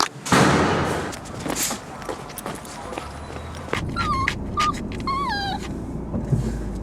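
A dog whines and whimpers to be let out of its car crate, high wavering cries in several short bursts close by over a steady low rumble of the moving car.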